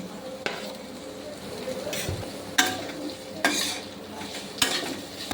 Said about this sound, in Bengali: এর মধ্যে আমি দিয়ে দেবো পেঁয়াজ কুচি, এটাকে ভালো করে ভেজে নেবো